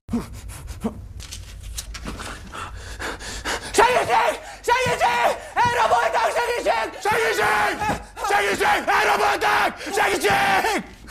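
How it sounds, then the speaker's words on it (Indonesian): In a scene from the 2025 film Feels Like Home, a woman lets out repeated loud, strained screams mixed with gasps and panting, after quieter rustling at the start. "Rita langsung berteriak sekuat tenaga."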